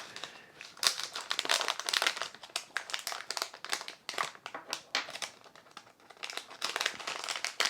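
Product packaging for a simple camera flash is opened, its wrapper crinkling and rustling in continuous close, irregular bursts with no talking.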